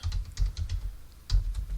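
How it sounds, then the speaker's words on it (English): Fingers type on a computer keyboard in short bursts of clicky keystrokes, close and quiet, with a brief pause midway and no speech. "You're going to hear me typing."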